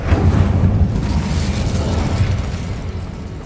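An Incendio fire spell cast in Hogwarts Legacy, a loud roaring burst of flame that sustains as a dense, rumbling whoosh before slowly easing off.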